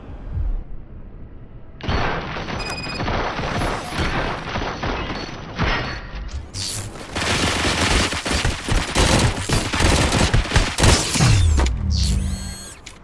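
Dense gunfire fills the RoboCop: Rogue City video game, with rapid sustained bursts and mechanical clatter that swell louder toward the end and overlap other game effects.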